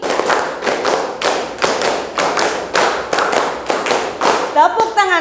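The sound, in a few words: students clapping hands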